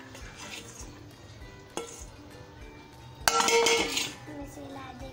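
Okra stirred in hot oil in a pan while cooking bhindi, with a soft, steady sizzle and occasional clinks of a utensil against the pan, one louder scrape near the end, under quiet background talk.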